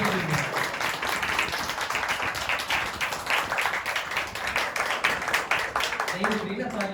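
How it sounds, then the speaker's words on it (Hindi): Church congregation applauding together, sustained dense clapping that carries on for several seconds, with a preacher's voice over it. "नहीं रुक रही ना तालियां, अपने लिए बजाने नहीं रुकती ना।"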